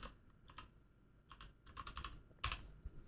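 Keystrokes on a computer keyboard come in short irregular bursts of clicks, close and fairly quiet, with brief pauses between flurries and no talking.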